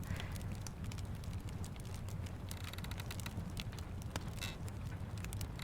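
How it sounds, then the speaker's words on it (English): A crackling fire in an audio drama, a dense, steady bed of pops and snaps close by, with patter like rain mixed in throughout. "the sound of a crackling fire"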